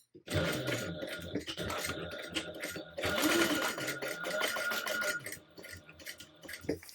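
Sewing machine basting handbag pieces together, close rapid mechanical stitching running in bursts with short pauses, with a voice speaking over it.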